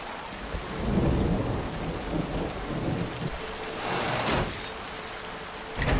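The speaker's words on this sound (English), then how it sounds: "I do love this kind of rain, though." Steady rain falls hard on surfaces while deep thunder rumbles through, a sharp crack arriving near the end, in a dramatic TV scene with no talking.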